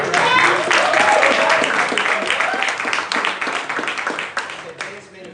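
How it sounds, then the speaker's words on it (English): Crowd at a political rally breaks into strong applause with cheering voices, a thick wash of clapping that holds steady and then starts to thin toward the end. "Oh, we can applaud clean energy."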